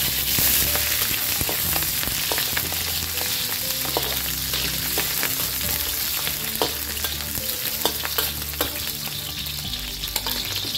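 Onion fries in hot oil with a dense, steady sizzle and crackle up close, lightly punctuated by stirring clicks, for a pork pata dish.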